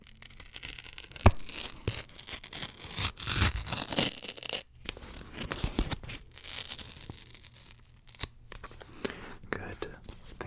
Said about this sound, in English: you'll remember them with this ripping sound